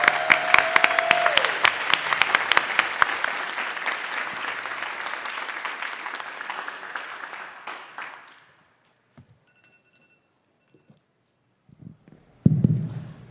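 Warm, dense applause from an audience at a public talk rolls steadily for about eight seconds, then fades out into near silence before a brief shuffle and a voice at the end.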